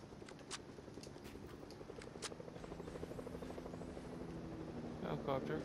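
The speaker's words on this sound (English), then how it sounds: "Helicopter." Helicopter rotor in Fortnite gameplay, a steady low pulsing chop that builds slightly louder across the clip, with faint game clicks and soft scuffing on top.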